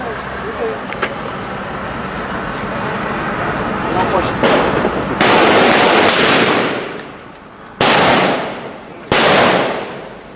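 Gunshots in a street firefight, with loud sharp bursts of fire in rapid clusters under a background of engine and traffic noise, while people shout and talk nearby.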